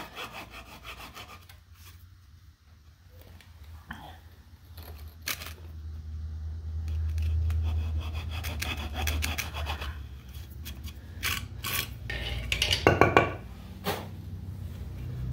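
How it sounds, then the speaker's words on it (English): A hand hacksaw cuts a channel for a cable in irregular back-and-forth rasping strokes, quiet at first and then louder and quicker toward the end, heard close up with no talking. "Hacksaw just happened to be the closest saw at hand, so that's what we'll use."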